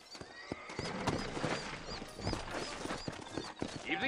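In a Western video game set in New Austin, saddled horses neigh and whinny over quick clip-clopping hooves, close and lively, with a brief bit of background talk.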